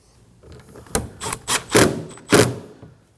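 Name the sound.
screws being installed into a plastic panel, Nissan Armada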